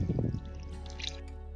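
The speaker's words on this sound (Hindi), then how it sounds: "इसमें थोड़ा सा और पानी डालना होगा मुझे।" Water poured into a 40-litre tub of soaked 5 kg cocopeat block, a brief wet gurgling splash and squish up close, then fading into soft dripping and trickling.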